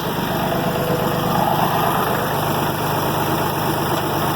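IH 706 tractor engine running steadily, a loud close drone with constant rumble as it lifts an IH 55 chisel plow, no voices.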